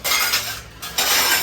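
A saucer is handled among metal dishes and utensils, giving a close cluster of bright clinks and scrapes in two bursts separated by a short quieter gap.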